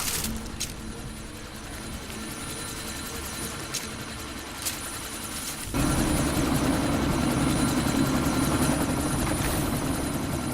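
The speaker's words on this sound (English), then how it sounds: "That chopper's about to take off!" In the game Deus Ex: Mankind Divided, a helicopter revs up for takeoff with a steady rotor chop and turbine whine. Partway through the roar grows suddenly louder and fuller and holds, close and continuous, with no talking.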